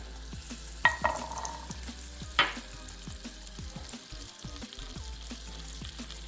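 Olive oil and butter sizzle steadily in a pan as a Turkish vegetable soup begins, a soft continuous fry with a couple of sharper clinks or stirs and no talking.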